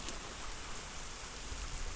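Rain from a storm patters steadily and faintly onto a surface at a village outdoor cooking spot, with a few scattered drips standing out.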